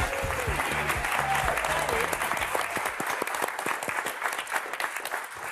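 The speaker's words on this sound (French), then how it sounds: "On va continuer d'applaudir" Loud, sustained applause from a TV game show studio audience, dense clapping that continues throughout, with some music or a voice faintly underneath early on.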